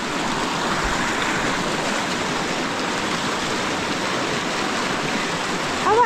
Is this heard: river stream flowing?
yes